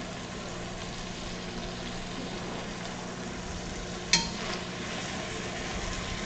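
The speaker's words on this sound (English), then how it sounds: "Go ahead and introduce the aromatics. This case is just basic ass white onion." Meat sizzles steadily in a hot pan as white onion goes in, a brief clatter and stir briefly lifting the continuous frying hiss before it settles back.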